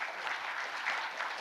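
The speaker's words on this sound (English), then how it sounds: "this needs an applause please" A seated audience applauds at a health technology conference after a device demonstration, a dense, even patter of many hands clapping continuously, heard alone and moderately near.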